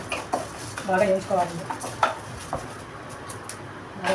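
A spoon stirs chana dal and dal roasting in a dry pan for curry leaf powder, making close, irregular scraping and rattling strokes over about four seconds, with a voice speaking at times.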